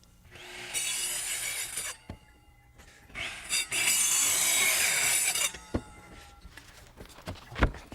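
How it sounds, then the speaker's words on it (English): Power saw making careful plunge cuts to remove a section of wood floor framing between marks, two long bursts of loud high cutting noise separated by short gaps and followed by knocks and thumps, with no talking. "with careful plunge cuts, I cut out by eye between the marks"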